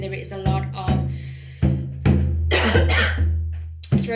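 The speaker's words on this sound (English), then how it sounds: "I'm going to be coughing throughout this" A person with an irritated throat coughs repeatedly in several sharp, close bursts, some trailing into voiced, throat-clearing rasps.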